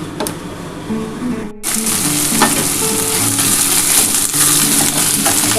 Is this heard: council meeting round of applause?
no